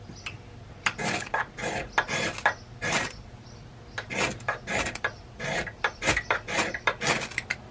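A knife or blade scraping shavings off a stick of resinous fatwood, giving repeated rasping strokes in uneven bursts, close and fairly loud with no talking.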